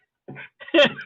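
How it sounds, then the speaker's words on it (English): A person coughs twice in quick succession, a short muffled burst followed by a louder, harsher hack, close and dry, with silence around them. "I'm having a cough attack."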